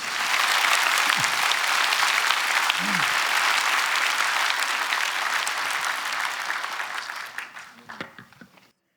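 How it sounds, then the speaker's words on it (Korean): Sustained applause from a church congregation at an ordination service fills the room, loud and dense, then tapers off near the end as a voice begins to speak. "박수 치려면 확실히 치시죠."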